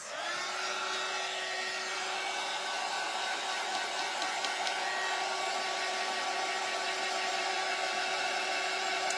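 A hair dryer blows steadily on a cardinal napkin craft, a loud continuous whirring hum with a high whine that holds even from start to finish, with no talking over it.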